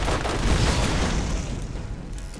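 A loud, rumbling explosion from a rocket launcher in the video game Borderlands, a heavy boom that fills the clip and slowly decays with a lingering roar.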